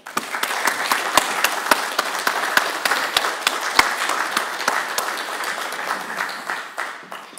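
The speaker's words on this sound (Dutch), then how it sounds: "Het is ook verkwikkend om een keer nog een applaus te horen" Audience applause after the Cleveringa lecture at Leiden University in The Hague: sustained, dense clapping from a large hall with a few sharp individual claps standing out. It fades slightly toward the end, with no speech.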